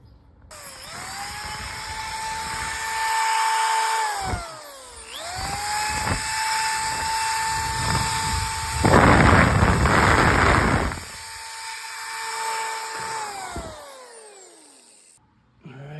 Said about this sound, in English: I'm gonna drop the phone and I'm gonna work this with the drill